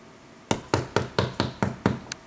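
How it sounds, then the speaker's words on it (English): Someone knocks on a door with seven sharp, evenly spaced raps, close and distinct against a quiet room. "a knock at the door"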